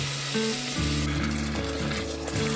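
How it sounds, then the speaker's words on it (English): Cream cheese and cream of mushroom soup being stirred together in a pot, with a steady sizzle and soft scraping that continue close and loud throughout, along with a faint tonal hum. "And just stir it up till it gets all nice and creamy."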